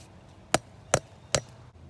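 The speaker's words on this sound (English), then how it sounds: "Not going to hammer them all the way in. Any old roofing nail will work." Roofing nails are hammered partway in to hold chicken wire. Three sharp, evenly spaced hammer strikes ring out alone at close range.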